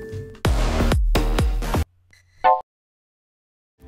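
An electronic music drop built from samples in Logic Pro X plays as a loud, choppy burst of deep booming synth hits with falling pitch, then cuts out and stutters into silence as the overloaded project drops audio.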